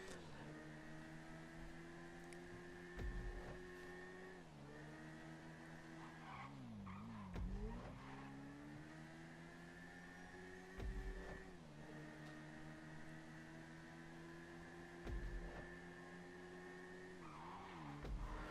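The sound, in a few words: Double T motorbike riding in video game GTA Online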